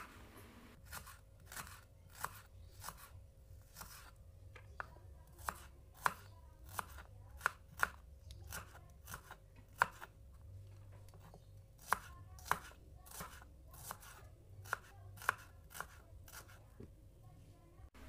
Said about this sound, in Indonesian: Pertama-tama di sini aku mau iris tipis eh, bawang merahnya.